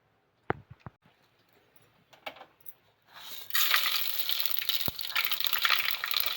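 Mustard seeds, cumin and chana dal dropped into hot oil: a few sharp clinks and pops at first, then a loud continuous sizzling and crackling fry that fills the rest.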